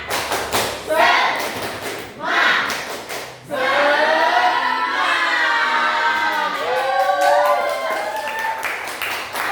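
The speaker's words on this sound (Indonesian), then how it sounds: "Ibu punya satu yel-yel yang dimana Ibu beri nama tepuk semangat" Sixth-grade children in an elementary classroom clap a short rhythmic pattern of sharp thuds, then shout a loud chant together, their voices rising and falling in unison.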